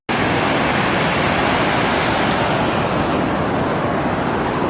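An Icelandic waterfall near Seyðisfjörður roars as a dense, steady broadband rush, loud and close, with no breaks and no voices.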